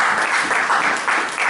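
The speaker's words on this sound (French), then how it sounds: "Applaudissons très fort pour le Seigneur." A church congregation applauding loudly, steady dense clapping from many hands that swells in waves over a short stretch, close and full.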